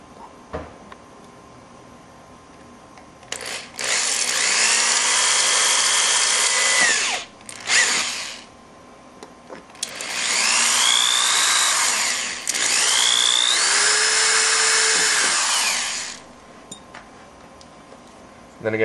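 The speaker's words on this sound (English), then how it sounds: "drill your second hole." Power drill boring a hole through a piece of an airsoft rifle charging handle, two long high whining bursts with pitch shifts as the bit cuts, separated by short pauses and light handling clicks.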